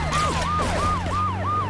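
A wailing ambulance siren in GTA 3 sweeps up and down in a steady repeating cycle over a low vehicle engine hum, loud and close, with no talk.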